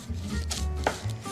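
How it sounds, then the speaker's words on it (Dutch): A knife slices through a firm, slightly hard nut and fruit bar on a board, giving a few dull chopping knocks and scrapes close up, with no voices. "Dus nu kan je kiezen hoe groot de stukken zijn die je ervan snijdt."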